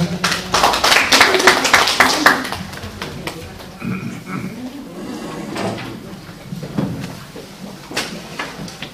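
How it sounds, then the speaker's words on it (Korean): Applause from the audience at a Gyeongju Haeparang Trail guardian training session, a burst of clapping that is loud at first and fades over several seconds, with a few scattered claps and room noise afterward. "박수 부탁드립니다"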